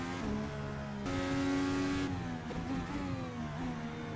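A race car in a racing video game set on the Toronto street circuit, its engine droning steadily at high revs with tonal shifts as it drifts through a corner, heard alone without talk.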